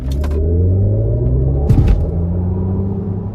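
A 2023 Mercedes-Benz EQS 580 SUV accelerating at full throttle: a loud, steady low rumble with a rising electric hum that holds throughout, with no talking.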